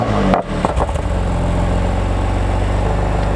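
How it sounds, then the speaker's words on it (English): A warm BMW M2 Competition in Sport Plus fires up with a sharp starter burst and a small pop, then settles into a steady, close, rumbling idle. "So this is with the car warm, Sport Plus, I'll turn it on."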